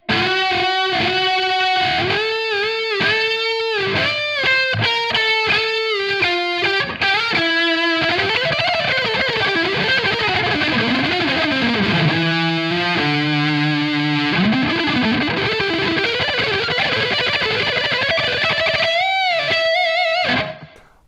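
A distorted electric guitar on its neck pickup, an active humbucker, plays a sustained lead line with bends and slides, warm and round in tone, loud and alone.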